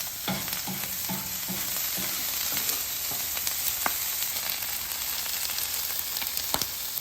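Brisket fat sizzles steadily on a downhill-sloping griddle while cooking a breakfast hash, with a close, continuous frying hiss punctuated by occasional scrapes and taps of a spatula.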